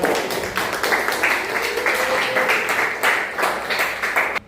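An audience at an Indonesian debate talk show claps in sustained, dense applause that lasts several seconds and stops abruptly, with faint voices mixed in.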